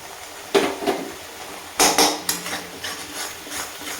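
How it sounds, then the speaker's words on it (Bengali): Ground turmeric, garam masala, coriander and Kashmiri chili powder being stirred in oil in a pan for a potato, pointed gourd and prawn curry, with irregular spatula knocks and scrapes against the metal and no talking. "দিয়ে এখন খুব ভালো করে এটাকে কষবো, তেল ছাড়া পর্যন্ত কষবো।"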